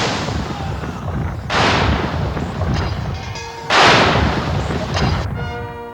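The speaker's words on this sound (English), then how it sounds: "the Honourable Artillery Company is firing a 41-gun salute" Two heavy cannon blasts from a 41-gun salute by the Honourable Artillery Company on the wharf of the Tower of London, each a loud booming report with a rolling echo over steady outdoor background noise.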